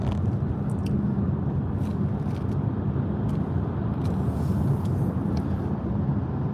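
Road traffic heard from inside a moving car on a highway, a steady loud rumble of engine and tire roar with whooshes of passing vehicles, continuous and close with no talking.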